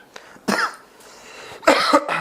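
Two sharp coughs from a man in a studio talk show, the first around half a second in and a second, rougher burst near the end, each loud and close against a quiet room with no speech.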